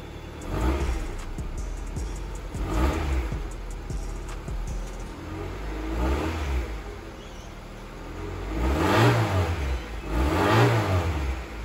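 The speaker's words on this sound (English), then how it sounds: "we'll just see what it sounds like on startup and give it a few little revs" A car engine on cold startup revs several times through its exhaust, each rev swelling into a rising then falling vroom, separated by quieter idle, with louder back-to-back revs near the end.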